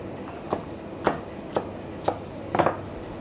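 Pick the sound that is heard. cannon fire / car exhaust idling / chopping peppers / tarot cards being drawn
chopping peppers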